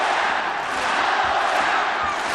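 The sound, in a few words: home crowd cheering at boxing match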